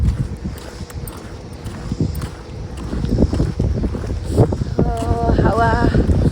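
Gusty outdoor wind buffets the microphone beside a street with a zebra crossing, a low rumbling roar that swells midway, while a voice talks near the end.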